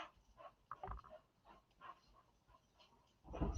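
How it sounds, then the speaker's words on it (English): A big black dog gives short whimpers and soft muffled barks indoors, fairly faint, in irregular bursts with a louder outburst at the end. "He's a big black dog."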